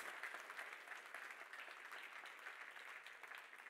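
Steady applause from a conference audience after a keynote, a dense even patter of clapping hands holding at one level throughout without pause.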